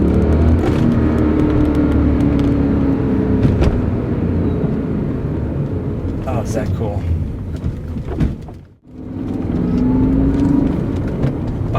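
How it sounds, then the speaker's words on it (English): The V8 engine of a BMW E39 M5 rumbles steadily and revs up close by, with a person speaking over the engine noise. "Just listen to this V8."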